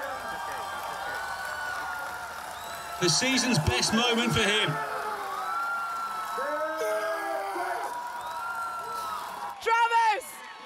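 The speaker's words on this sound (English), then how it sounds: "he takes the adulation of the crowd" Crowd at a strongman competition cheers, whoops and yells for Travis Ortmayer's Husafell Stone world record, with loud bursts of shouting rising under steady commentary and a final sharp cheer.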